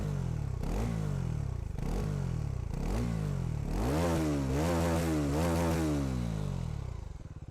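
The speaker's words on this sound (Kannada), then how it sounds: "ಸೊ ಎಕ್ಸಾಸ್ಟ್ ನೋಡು ಕೇಳೋಣ ಬನ್ನಿ" A Bajaj NS400Z motorcycle with a 349cc liquid-cooled single-cylinder engine and underbelly exhaust revs up close and loud in several quick blips, then holds a longer climbing rev before easing off, with no talking.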